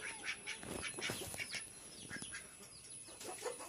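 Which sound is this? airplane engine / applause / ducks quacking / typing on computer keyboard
ducks quacking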